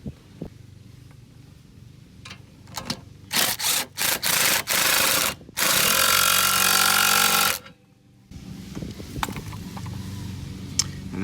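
RV stabilizer jacks are lowered in bursts of loud mechanical grinding, several short runs and then one longer sustained run, set against quieter outdoor background.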